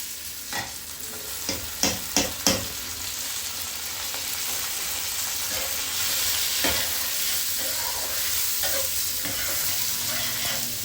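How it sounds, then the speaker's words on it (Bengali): Soaked Gobindobhog rice frying in a pan, a bright steady sizzle with a few sharp clinks of a spoon against the pan early on, then continuous hissing close up. "ভেজে নেব চালটাকে।"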